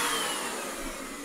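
Belaco BUVC135 vacuum cleaner motor with a pleated paper filter, whining in a steady, close, continuous roar with a slightly changed tone and no talking.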